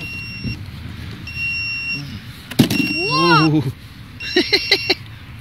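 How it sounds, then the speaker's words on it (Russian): Electronic beeping inside an SC8 Super 4x4 vehicle, a thin steady high-pitched tone that keeps sounding in repeated stretches, mixed with clanks, handling noises and nearby voices. "Че там пикает?"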